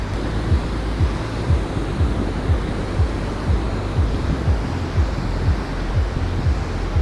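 Steady surf washing ashore at Patong Beach, Thailand, a continuous broad roar with gentle swells and some wind buffeting the microphone, close and fairly loud with no voices.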